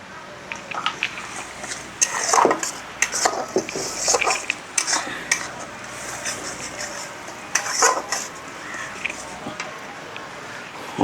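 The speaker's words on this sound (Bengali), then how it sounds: "দইটাকে ভালো করে ফেটতে হবে তো আর কি" A spoon clatters and scrapes against a bowl while yogurt with turmeric is beaten for a Bengali stuffed pointed gourd dish, in irregular bursts of clinks and stirring, with a voice speaking over parts of it.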